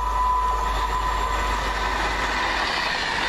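A Virgin Trains Class 390 electric unit passes at Adderley Park on the Birmingham New Street to London Euston route, a loud, continuous, even rush of rail noise with a faint thin whine, no voices.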